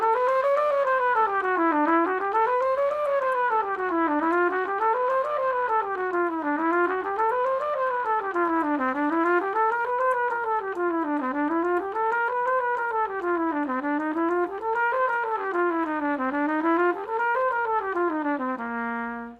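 A single melodic line runs a bebop scale up and down in steady, wave-like phrases over a blues, clear and continuous for about twenty seconds, ending on a held note, with no talking.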